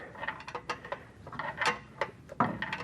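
Short metallic clicks and ratcheting bursts from a wrench loosening the bolts on a transmission flex plate, close up and fairly quiet, in an uneven series of sharp ticks with no talking.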